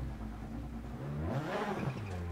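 Game car engine in a racing video game revs up as the accelerator pedal is pressed, a steady mid-pitched drone climbing in pitch toward the end, with no talk.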